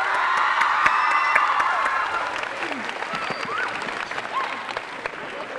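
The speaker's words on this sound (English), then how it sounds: "Let's also give Mr. DiCarlo a round of applause." Graduation audience at Cabrillo Middle School applauds with steady clapping, cheers and whoops mixed in, a full crowd sound that holds across the moment and tapers slightly toward the end.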